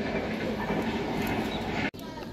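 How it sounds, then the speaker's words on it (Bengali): A local commuter train passes close beside a Mumbai apartment balcony, its steady broadband rumble and clatter filling the whole stretch, loud and continuous, with a brief dropout near the end. "সাইড দিয়ে দেখুন লোকাল ট্রেনের আওয়াজ আপনারা পাচ্ছেন"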